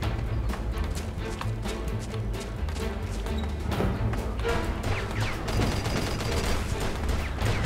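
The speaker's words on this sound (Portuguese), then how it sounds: "os malucos estão de metralhadora, velho" Rapid machine-gun bursts ring out in a Mafia 2 shootout, clustered cracks and rattling fire at moderate distance, layered with other gunfire and impacts.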